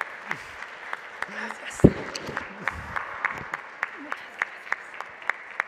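Audience applause for Beatriz at a genealogy expo in Mexico, a steady run of claps with one brief voice thanking the crowd over it.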